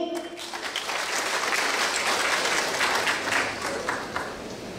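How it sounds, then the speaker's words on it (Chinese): Audience at a conference breaks into dense, sustained applause, many hands clapping together at a steady, full level from start to finish with no clear voices over it. "让我们用最热烈的掌声，预祝本次大会取得圆满的成功。"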